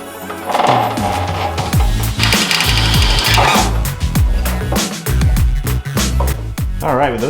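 A power drill bores out bolts on a crashed Lamborghini Gallardo front fender, loud whining bursts that rise and stall repeatedly, close up, with short pauses and clanks between runs.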